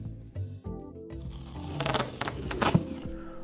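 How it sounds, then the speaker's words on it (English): Packing tape is pulled and pressed onto a cardboard shipping box holding homebrew bottles, with close screeching tape-unrolling bursts and crackly rubbing, ending in a sharp rip. "and let's tape it up."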